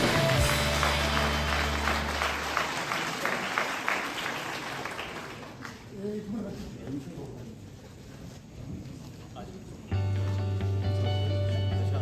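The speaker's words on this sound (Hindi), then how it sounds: "जोरदार तालियां तमाम बच्चों के लिए, और अपने लिए भी जोरदार तालियां बजा दो" Audience at a student merit ceremony in Shimla gives loud applause for the students, a broad wash of clapping that fades, followed by a steady hum with faint voices.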